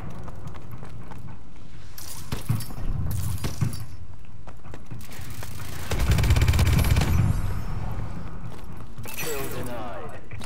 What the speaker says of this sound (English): It's a fucking submachine gun.